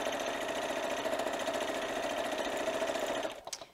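A sewing machine stitches a French seam in fabric, a steady close mechanical whir running for about three seconds before it slows and stops, followed by a few soft handling clicks.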